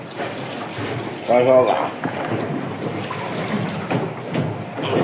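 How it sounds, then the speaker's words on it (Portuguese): Water pours into a bucket aboard a fishing boat in strong wind, a close splashing fill with gurgling under a voice speaking Portuguese, plus steady background noise. "Tô até tirando aqui, enchendo um balde, galera."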